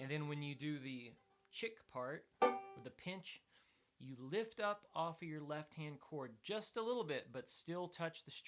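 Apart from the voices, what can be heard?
No everyday noises stand out.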